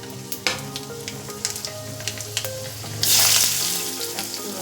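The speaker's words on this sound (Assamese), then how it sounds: "এতিয়া ইয়াতে চম্ভাৰ দিম মই, মানে তৰকাৰীখিনি চম্ভাৰ হেৰি দিছোঁ ইয়াতে" Vegetable curry tempering in hot oil in a home kitchen, a steady crackling sizzle with scattered pops and stirring clinks, then a sudden louder hiss as more goes into the pan.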